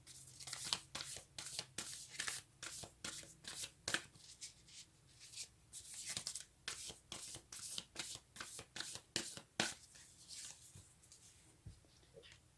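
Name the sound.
tarot cards being shuffled and drawn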